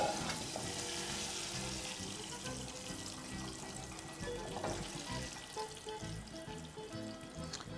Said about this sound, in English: Once you're done frying batches of ingredients